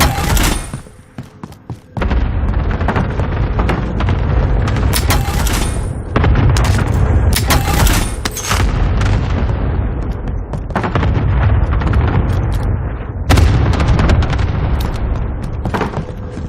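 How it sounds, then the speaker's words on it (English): Call of Duty Warzone cluster strike, a loud sustained volley of explosions and booming impacts hitting in rapid succession after a short quieter lead-in, close and overwhelming, with no voices. "Cluster strike down"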